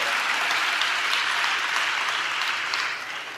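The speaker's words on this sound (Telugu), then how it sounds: "చప్పట్లు కొడుతూ స్తోత్రాలు చెప్దాం." A church congregation claps together in praise, a loud, dense and steady wash of applause that fades slightly toward the end.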